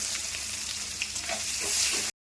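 Chopped onion fries in hot oil with cumin and bay leaf, a bright, continuous close sizzle with occasional stirring scrapes, then cutting off abruptly.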